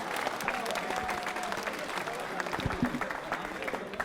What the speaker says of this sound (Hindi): शालिनी मीणा के लिए जोरदार तालियां बजाइए।